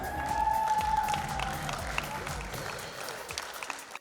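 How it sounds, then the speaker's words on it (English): An audience at a business awards ceremony applauds with a continuous wash of clapping that rises at the start and slowly thins out, while a voice talks faintly beneath it. "we keep the applause going"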